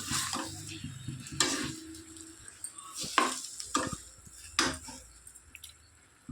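Tomato gojju being stirred in a hot pan, with several distinct scraping strokes of a spoon against the metal over a low sizzle, close and fairly quiet.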